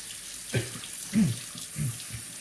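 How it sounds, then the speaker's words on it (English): Water from a tap runs over a sharpening stone for a straight razor, a soft steady trickle with a few faint low splashes and knocks, close and quiet. "I wet down this stone for a bit. Just apply some water over it, let it soak just slightly."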